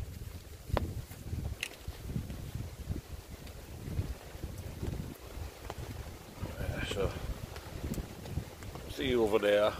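Wind blowing outdoors at night during an overnight camp near rising water, a steady low rumble with gusty buffeting across the whole stretch, a few soft thuds and movements nearby, and a brief voice near the end.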